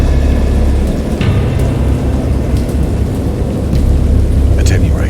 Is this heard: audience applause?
no